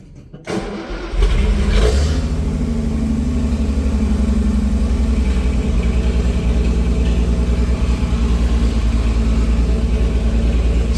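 A Holden Gemini with no exhaust fitted cranks and fires after a couple of days sitting, then settles into a loud, raw, rough idle that runs on steadily with no voices.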